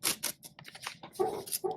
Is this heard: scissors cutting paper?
yes